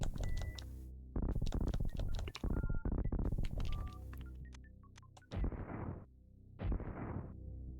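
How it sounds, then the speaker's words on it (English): Super missile shots and blasts in the Super Nintendo game Super Metroid: several loud, punchy booming bursts separated by brief gaps, with no talking. "we could use a super missile for that"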